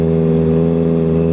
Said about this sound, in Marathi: नुसती सकाळ सकाळ गाडी चालू केली बघा